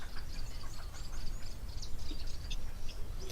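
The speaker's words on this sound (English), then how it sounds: "We've got a blue waxbill." A blue waxbill at a waterhole gives scattered thin, high chirps and short calls over a steady, noisy outdoor background.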